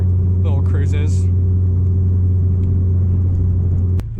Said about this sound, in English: The drone is pretty bad in here